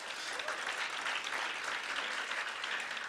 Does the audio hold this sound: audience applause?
yes